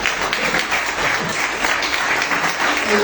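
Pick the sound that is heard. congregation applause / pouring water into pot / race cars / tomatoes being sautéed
congregation applause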